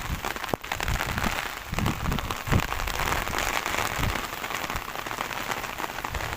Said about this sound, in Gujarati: વરસાદ પાછો આવી ગયો.